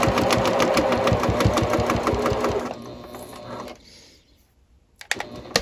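A sewing machine runs steadily, stitching the flap of a tote bag at a regular 3/8-inch seam allowance, then slows and stops, followed by a few brief clicks and handling sounds.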